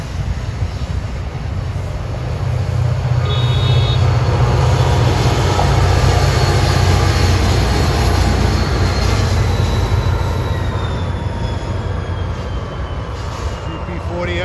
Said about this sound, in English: This sounds like he has a diesel on the back.